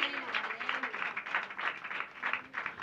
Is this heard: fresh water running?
no